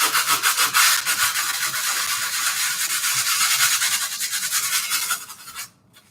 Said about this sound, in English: Sandpaper down the edge, and it becomes almost like smooth.